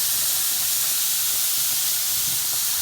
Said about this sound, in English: I'm going to add the tomato sauce.